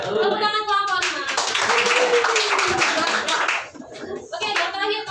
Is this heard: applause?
yes